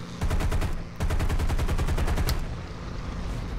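Fighter plane machine guns firing in the War Thunder video game, two rapid sustained bursts of close, loud gunfire with a brief pause between them, then fading engine noise.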